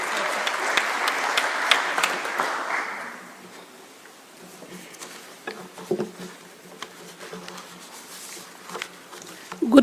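A crowd applauds to welcome a government minister at an international heritage conference in Gigiri, Kenya; steady clapping for about three seconds fades to scattered claps and murmuring, and a few louder claps return near the end.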